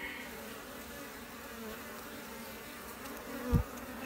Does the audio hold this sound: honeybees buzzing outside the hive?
yes